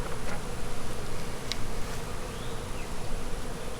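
Carniolan honey bees buzzing in an open hive during an inspection, a steady dense drone close by with no voices.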